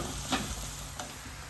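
Sliced onion sautés in a pan with a soft, steady sizzle and a couple of quick stirring scrapes, brief and fairly quiet.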